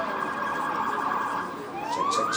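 An emergency vehicle siren passes on a city street during a town hall in New York City, wailing loud and close with a sweeping pitch that dips and then rises again.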